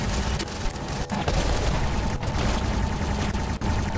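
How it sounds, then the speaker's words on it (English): A phase shift weapon fires from a mech in War Robots, a dense, continuous roar of rapid blasts that stays loud throughout without any speech. "Someone's shooting us with the phase shift."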